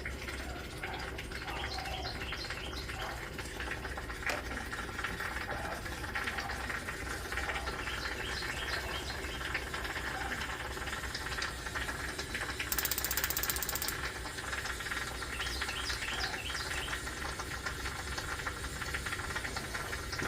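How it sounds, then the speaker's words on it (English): A jewelry steamer runs steadily in the background, giving a continuous faint hiss with rapid ticking, rattling pulses throughout and a brief louder burst near the middle. "that's my steamer you hear in the background"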